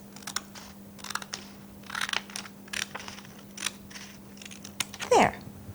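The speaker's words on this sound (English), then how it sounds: "we're going to cut our piece of paper in half" Scissors snip through paper in a series of short crisp cuts, ending with a louder rustle of paper, close by over a low hum.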